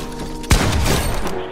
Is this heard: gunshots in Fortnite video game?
yes